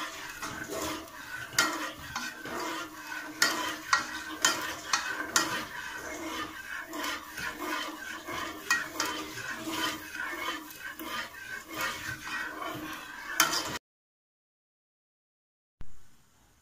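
A utensil stirs sugar and water syrup for petha in a pot with repeated scraping and clinking strokes in a steady rhythm. The stirring is close and moderately loud, then stops abruptly before a brief final sound.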